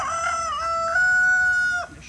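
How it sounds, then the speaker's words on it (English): A rooster on a hot Texas homestead crows one long, loud, close call that rises, holds steady and breaks off sharply, with no voices over it. "Quite a bit of roosters."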